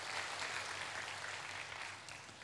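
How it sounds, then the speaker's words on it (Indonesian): A church congregation applauding during a sermon, a steady wash of many hands clapping together, faint and distant throughout with no voices rising above it. "Kita berikan tepuk tangan buat Tuhan Yesus."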